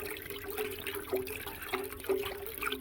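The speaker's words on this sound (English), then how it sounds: "First of the sap is going into the pot, and we'll boil it down" Maple sap pours into a pot for boiling down to syrup, a steady liquid trickle and splash with a few brief louder gushes, close and alone.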